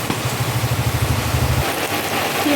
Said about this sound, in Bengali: বাইরে বেশ জোরে জোরে বৃষ্টি হচ্ছে